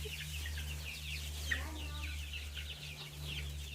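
Chickens clucking inside a barn coop, several soft intermittent clucks and murmurs close by over a constant low mechanical hum, with no talking.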